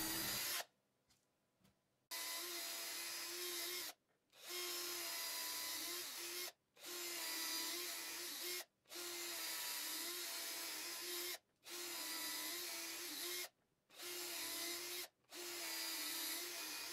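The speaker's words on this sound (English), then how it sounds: "I'm just going to use a bigger drill bit to basically connect all of these holes" A power drill with a larger bit bores through a crankbait fishing lure to join pilot holes into a channel, running in close, loud whirring bursts separated by short pauses.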